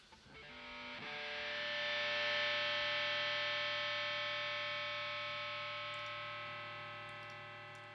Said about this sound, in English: the actual feedback by itself with that guitar rig on again